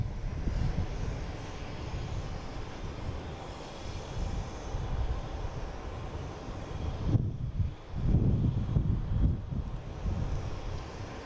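An airplane passes with a continuous low, rumbling roar and a broad, wind-like hiss, loud and sustained, dipping briefly near the end before swelling again.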